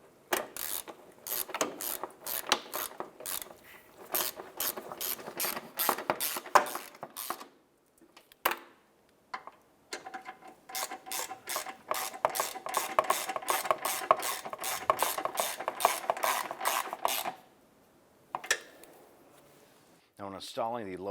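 Ratchet cranking down intake manifold screws on a 2011-2019 Ford Fiesta, rapid clicking in repeated bursts with short pauses, close and moderately loud, with a voice talking in between.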